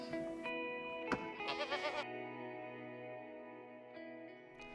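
Goats raised by refugee communities in an East African goat project bleat in a reverberant space, several calls rising over a steady hum, with a bright burst of overlapping bleats in the first half.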